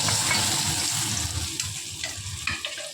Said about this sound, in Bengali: মাছের মাথাগুলো ভালো করে কড়া করে আমরা ভাজা করে নেব